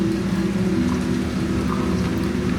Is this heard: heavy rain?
yes